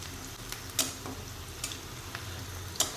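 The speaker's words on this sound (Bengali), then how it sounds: "ভালো মতো নেড়ে ভেজে নেওয়া হচ্ছে সব কিছু।" Garlic and whole cumin seeds stir-frying in a pan, a steady low sizzle with a few sharp scrapes and clinks of the spatula against the metal, no voices.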